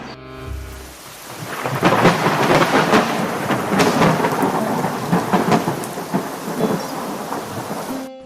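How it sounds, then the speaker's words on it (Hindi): Heavy rain pours steadily with rumbling thunder and gusty wind in a storm, a loud dense wash of drops on surfaces that swells after a brief quiet start and holds throughout. "बाहर जोरदार बारिश और तेज हवा चल रही है।"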